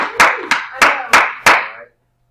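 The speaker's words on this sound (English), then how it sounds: "Everybody, let's give Miranda a little round of applause." Five sharp, evenly spaced claps ring out in a classroom, a short round of applause that stops abruptly.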